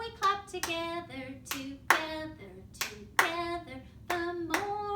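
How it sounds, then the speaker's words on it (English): Children and adults clap their hands in a steady rhythm along with a sung children's song, with sharp claps on the beat mixed with voices singing a melody. "The more we clap together, the happier we'll be."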